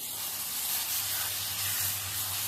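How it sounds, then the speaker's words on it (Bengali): Food fries with turmeric in a pan, giving a steady, moderate hiss and sizzle heard close up, with a low hum underneath and no talking. "আমি একটু হলুদ দেবো তোমরা যদি হলুদটাকে স্কিপ করতে চাও স্কিপ করতে পারো সমস্যা নেই হালকা নেড়ে নেড়ে একটু ভেজে নিতে হবে"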